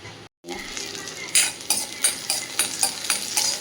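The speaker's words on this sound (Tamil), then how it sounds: "வாங்க இப்போ வதக்கிறத காமிச்சிட்றேன்." Small onions sautéing in a pan for coconut chutney, with a steady hiss of sizzling oil and a run of spoon stirring and scraping strokes. Several louder scrapes come at a regular rhythm, close up and with no talking.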